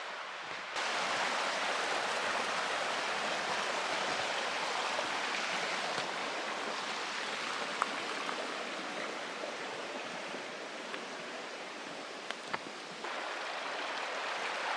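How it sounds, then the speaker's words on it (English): Steady rushing flow of a river on the Eagle Rock Loop hiking trail, a continuous broadband wash with a few faint scattered clicks and no voices. "There's the river."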